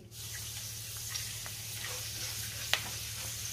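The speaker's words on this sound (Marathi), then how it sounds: "आता आपल्याला बटाट्याचा किस तळून घ्यायचा आहे।" Shredded potato fries in hot oil for a fasting sabudana chivda, giving a steady, gentle sizzle close by with a few small crackles and one sharp clink, with no talking.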